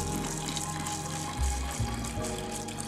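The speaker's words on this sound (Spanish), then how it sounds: "Rellenamos con un poquito de agua la botella." Water is poured into a sports water bottle for a drip-irrigation setup, a steady close gurgling flow with a slight shift in pitch partway through as the bottle fills.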